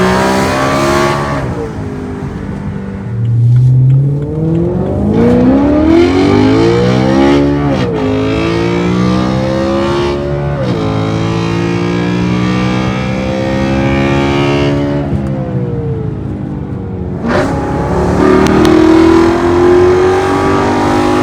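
BMW E92 M3 with a custom titanium double X-pipe valved exhaust, valves closed, revving loud and close with rising and falling V8 pitch sweeps, blipped repeatedly then settling and revving again, no talk.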